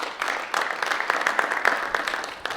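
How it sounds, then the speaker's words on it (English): A small group at a school district meeting gives brief, moderate applause in a room, the scattered claps blending into a short, even patter. "so how about a round of applause for them?"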